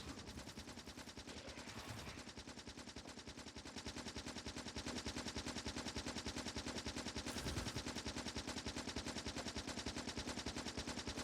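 Rapid, continuous automatic gunfire from Factorio, a video game, cutting down enemies in a dense, unbroken stream of shots that holds steady and loud throughout.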